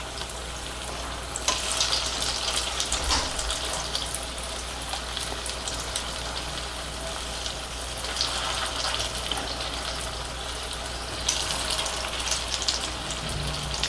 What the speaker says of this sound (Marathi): दोन्ही बाजूनी छान लालसर रंग येईपर्यंत आपल्याला ते तळून घ्यायचे आहेत